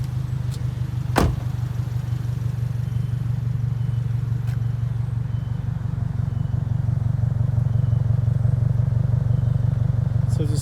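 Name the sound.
Subaru WRX engine with single exit exhaust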